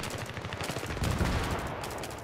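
Rapid gunfire in the video game Battlefield 3, a dense continuous burst of shots close and loud with no pauses.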